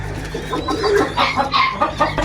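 A hen clucks close by in a series of short, uneven bursts, with low background noise and no talking.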